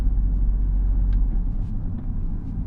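Audi TT RS Mk2 with its five-cylinder engine under acceleration, a deep, steady low rumble heard from inside the car, continuous and fairly loud with little change in pitch.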